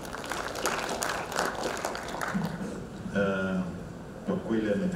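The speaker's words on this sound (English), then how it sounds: "Another round of applause to the presenter." Applause for a presenter fills a lawyers' association general meeting hall, steady dense clapping from a crowd that carries on for several seconds while a voice speaks over it.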